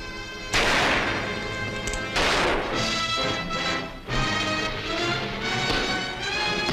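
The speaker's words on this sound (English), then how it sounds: "Does the sound of the guns frighten you that much?" Guns fire in heavy repeated blasts and crashes, loud and dense, with broad booming impacts rolling one into the next, no voices.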